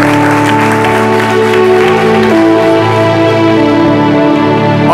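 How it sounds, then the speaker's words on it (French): An audience on a French midday television programme applauds honours read out for a guest, steady clapping over loud sustained music that runs the whole time. "Merci d'applaudir cela."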